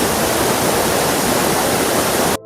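Walheri waterfall roaring with a strong, steady flow of water, a loud, continuous broadband rush heard alone without talk, ending in a sudden cut.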